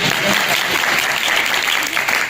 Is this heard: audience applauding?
yes